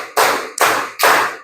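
Three loud, sharp hand claps land in an even counted rhythm, close and crisp, with no voices between them.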